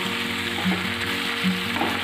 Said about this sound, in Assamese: মাংসখিনিয়ে তেলটো এৰিছে, মোটামুটি ভজা হৈছে আৰু অকণ ভাজিম